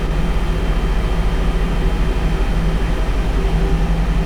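The second engine of an Airbus A320 spools up in X-Plane 11 flight simulation, a steady loud jet drone with a low engine hum and pulsing throb holding constant throughout, no talk.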